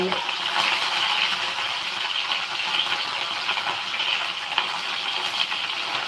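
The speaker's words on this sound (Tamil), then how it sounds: "இப்போது நெக்ஸ்ட்டு சில்லி போட்டுக்கலாம் பச்சை மிளகாய் கருவேப்பிலை" Green chillies and curry leaves fry in hot oil, a dense, continuous crackling sizzle that stays loud and even throughout, heard close up with no voices.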